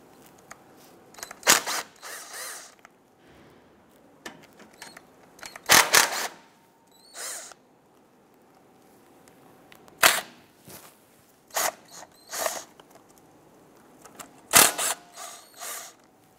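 Ratcheting and sharp metallic clicks come in short separated bursts as 3/8 bolts are loosened from the sway bar cover on a 1997-2006 Jeep Wrangler, with quiet gaps between.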